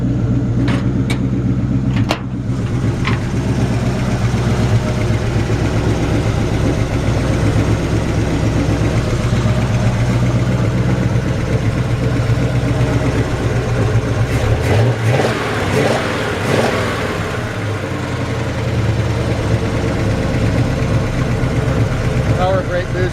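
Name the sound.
1953 Chevy 3100 idling with straight pipe exhaust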